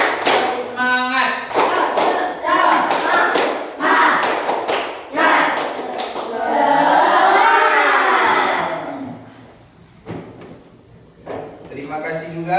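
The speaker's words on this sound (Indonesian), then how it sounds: "Tepuk 1, tepuk 2, tepuk 3, tepuk semangat" A classroom of elementary pupils performs a rhythmic clap-chant, bursts of group claps in counted patterns mixed with chanting voices, fairly loud and close, followed by a teacher speaking.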